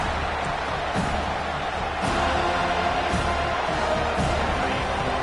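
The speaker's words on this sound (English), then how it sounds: "Decibels rising as the crowd gets behind this defense on third down" A football stadium crowd roars on third down, a broad, steady wash of distant voices swelling slightly louder partway through, with faint thumps and no clear talk above it.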